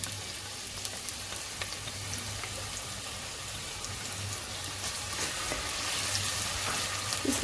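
Onions sizzle steadily in hot oil in a pan while kadhi pakora is being cooked, a continuous close crackling hiss with a low hum underneath and no talking.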